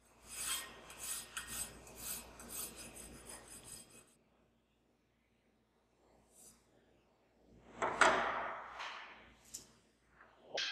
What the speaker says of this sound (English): we can finish the surface by draw filing using a fine tooth